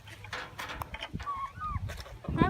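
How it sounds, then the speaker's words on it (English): Chickens released from their coop cluck and call in quick, overlapping bursts, close and fairly loud, amid shuffling movement. "we open the door and let all the chickens out."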